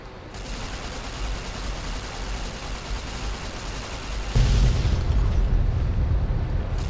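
Nuclear bomb explosions in the video game Fallout: New Vegas Lonesome Road, a sustained roaring blast that surges into a deeper, heavier rumble partway through.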